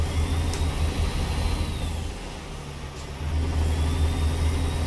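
A Kenworth K100 truck with a CAT 3306 engine in American Truck Simulator rumbles steadily and revs up, its low drone easing briefly midway before building again, with no talking.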